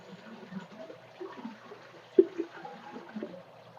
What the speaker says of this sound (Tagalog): itanggalan muna natin yung tubig